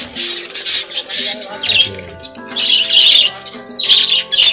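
Budgerigars in a home aviary colony squawk and chatter loudly and close by, bursts of harsh calls and shrill chirps overlapping in irregular rhythm.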